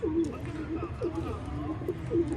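Several pigeons coo close by, repeated throaty calls recurring every second or so, with faint background noise and murmuring.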